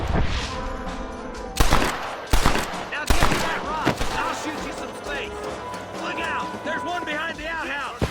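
Bursts of gunfire from a Western shootout in the Red Dead Redemption video game, with loud shots cracking out in quick volleys among dramatic music and voices talking.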